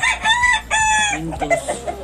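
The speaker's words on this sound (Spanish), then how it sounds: "les dejamos el video con los pollos" Fancy gamecock chickens and roosters of red, pinto and yellow plumage, freshly trimmed, cluck and crow close by in repeated bursts, with loud harmonic calls filling the whole span.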